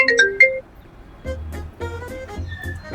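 A phone ringtone plays a few bright melodic notes and then cuts off, and voices and background noise follow.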